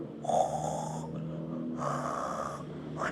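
A voice imitates snoring, giving two long rasping snore breaths in a row, each with a breathy hiss, followed by a short intake at the end.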